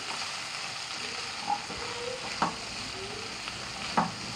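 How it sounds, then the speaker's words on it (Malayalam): Chopped broccoli sautés in butter with a soft, even sizzle, broken by a few light scrapes and clicks of a spoon against the pan, close and fairly quiet. "ഇനി ബ്രക്കോളി നല്ലോണം വഴറ്റി കൊടുക്കണം"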